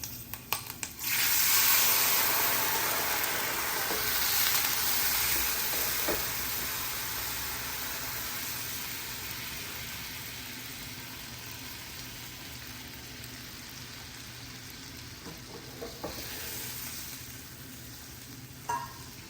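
Jaggery-tamarind water hits a hot pan of spices with green chili and red chili powder for Gujarati patra sabji. A sharp, loud burst of sizzling fades into a long, steady hiss with a few faint clinks, close by.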